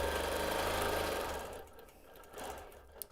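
Sewing machine stitching straight-line quilting, a steady fast mechanical whirr and needle chatter for over a second, then slowing and stopping, followed by faint handling clicks.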